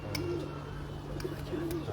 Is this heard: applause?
no